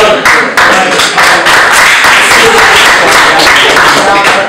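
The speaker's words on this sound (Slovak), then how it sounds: "Práve, že tí, čo na nás tleskajú" A talk show audience in Stará Ľubovňa applauds, a steady wash of many hands clapping that stays loud and continuous throughout, with no pauses.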